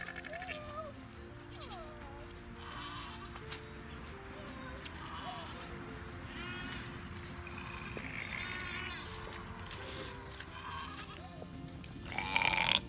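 Several goats on a homestead bleat intermittently at moderate distance before breakfast feeding, over steady outdoor background noise, with a louder clatter near the end.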